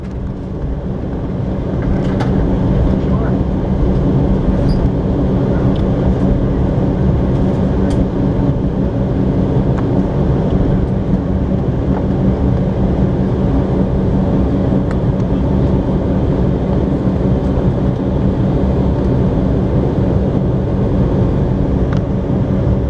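Steady cabin roar of a JetBlue Embraer 190 jet at Baltimore BWI around takeoff: loud, constant engine and airflow noise with no breaks and no talk.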